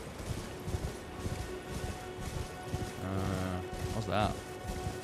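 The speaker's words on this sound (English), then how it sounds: "This is truly a magical horse." A horse gallops in Elden Ring with quick, rhythmic hoofbeats under game ambience, while a voice speaks briefly partway through.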